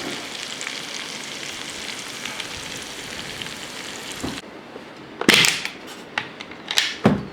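Steady crackling sizzle of onions frying in a hot cast iron pan, broadband and continuous, then quieter with a few sharp pops and bursts near the end.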